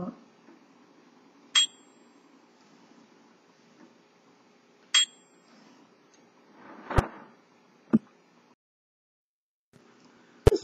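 The bell of an Underwood Leader typewriter gives two bright, short dings, quiet and separated by a few seconds, amid sparse carriage clunks and mechanical knocks.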